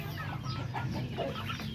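Pet chickens cluck continuously and fairly close while they are being fed, with no voices over them.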